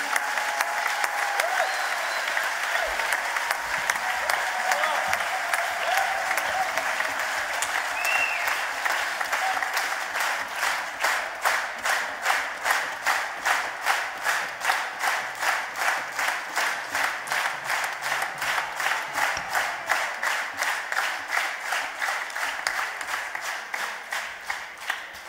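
A concert audience applauds the musicians after a live Moroccan and North African music show. Sustained applause fills the hall, then settles into steady rhythmic clapping in unison that continues to the end.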